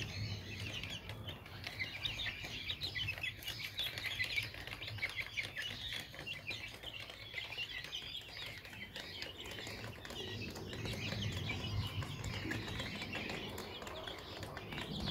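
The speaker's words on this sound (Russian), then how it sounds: "Вот такие вот замечательные цыплятки появились в моем хозяйстве." Small chicks peep and chirp continuously at close range, a busy overlapping chorus of high calls over low background hum.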